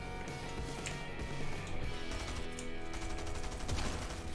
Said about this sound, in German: rechts sind irgendwo Schüsse von da hinten